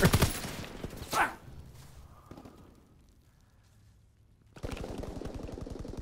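Volkssturmgewehr rifle firing in the Call of Duty: WWII hardcore mode, a loud burst of several rapid shots at the start, another sharp crack just after a second, then a quiet lull before dense game noise resumes.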